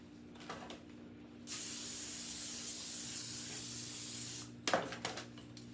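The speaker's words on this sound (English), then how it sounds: "With some butter spray." A steady hiss of an aerosol butter cooking spray runs for about three seconds, preceded and followed by a few soft clicks and handling noises, while preparing cobblers.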